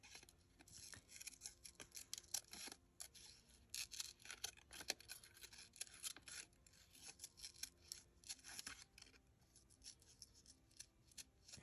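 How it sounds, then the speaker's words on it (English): Scissors cut through printed copy paper in a steady run of close, crisp snips and slicing rasps with no talking. "I'm actually going to cut it,"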